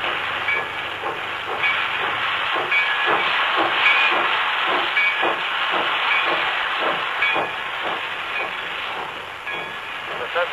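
A steam train hisses steadily in a railroad yard, a broad continuous rush of steam with faint rhythmic chuffs and clanks underneath, heard fairly close and alone without talk.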